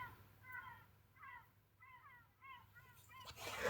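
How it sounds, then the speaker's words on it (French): Seagulls calling outdoors, a series of faint, distant laughing cries repeated about five times over a low background hum. "Vous avez le bonjour des goélands."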